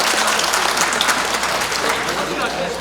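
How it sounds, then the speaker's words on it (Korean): Applause at a Korean book launch event, a steady dense clatter of clapping from a crowd that fills the moment loudly and evenly without a break. "박수!"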